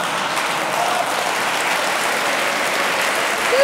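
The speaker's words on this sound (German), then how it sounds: "Applaus" Audience applause at a science slam, a steady dense wash of clapping throughout, loud and close, with no pauses.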